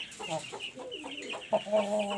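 A rooster clucking nearby in short, quick, soft bursts, fairly faint and alone.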